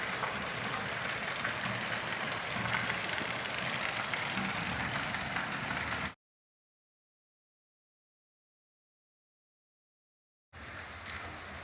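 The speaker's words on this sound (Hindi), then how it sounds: "और बारिश देखिए अभी भी नहीं रुक रही है" Steady rain pouring down during a hailstorm, a dense even hiss for about six seconds that cuts to silence, then resumes faintly near the end, with no voices.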